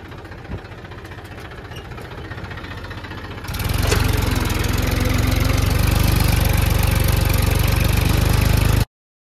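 A tractor engine chugs on the way to the field, quiet at first and then louder from about three and a half seconds as it revs up into a steady, close, knocking idle-like drone before cutting off abruptly.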